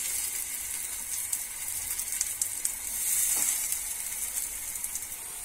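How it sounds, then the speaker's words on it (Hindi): Soya chunk galouti kebabs fry in hot oil over a low flame, giving a steady, close, bright sizzle with faint crackles throughout and no talking. "अब हम इसमें डालेंगे रेडी किए हुए सोयाबीन कबाब इस तरह से"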